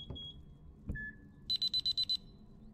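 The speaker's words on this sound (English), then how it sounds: "That was a lot of beeping." Electronic beeping in the horror video game Our Secret Below: two soft tones, then a rapid burst of six loud, evenly spaced high-pitched beeps over a quiet low hum.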